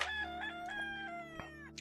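A rooster crows in the TerraFirmaCraft video game, one long clear cock-a-doodle-doo with a rising and falling tone, alone and fairly near over a low steady hum.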